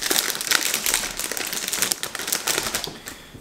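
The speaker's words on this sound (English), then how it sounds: "Slide this look. It's got a resealable bag." A resealable plastic bag of plums being slid open, giving close, crisp crinkling and rapid plastic rustling for a few seconds before it fades out at the end.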